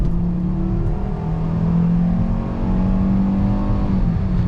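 The 2013 Volkswagen Beetle 50s Edition accelerates hard with a six-speed gearbox, its engine note rising steadily and loud from inside the cabin, with no voices.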